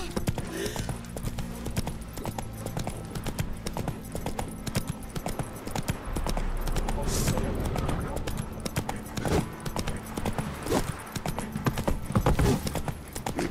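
Roach, the horse in The Witcher 3, gallops with quick repeated hoofbeats. Game music plays underneath, and a brief neigh can be heard amid the clatter.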